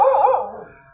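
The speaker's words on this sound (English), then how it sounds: "temple dogs. Always be wary of them" A temple dog at a Thai temple gives a single short, loud, close bark with a howling, wavering tone that fades quickly.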